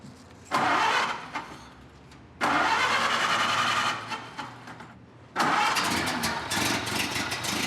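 A Ford Model A engine cranks and catches several times, each start roaring up loudly before settling into a rough idle, close by.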